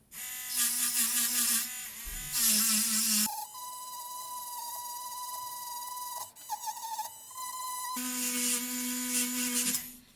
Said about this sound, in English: I'm going to use an engraver with kind of a diamond bit, just something a little harder.